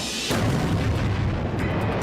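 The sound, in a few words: explosion of a rock airburst in the sky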